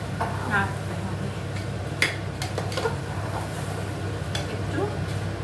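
A metal spoon scrapes and clinks against a cooking pot while spiced food with garam masala powder is stirred, a steady faint kitchen clatter under someone talking.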